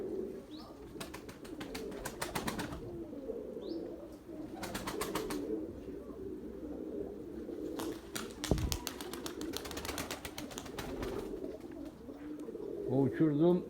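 A male pigeon with a moustache marking coos in a loft, giving low, throaty rolling coos in repeated bouts, close and clear, alongside wing flutters and other birds; someone talks quietly in between.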